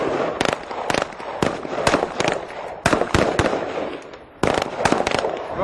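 Rapid loud live-ammunition gunshots and real explosive blasts crack out in irregular bursts, sharp reports overlapping one another close by, with a short lull before another volley.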